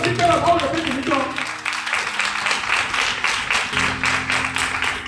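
Church congregation at a Sunday service acclaiming the Lord with sustained applause and clapping, loud and continuous, with voices and singing mixed in at the start.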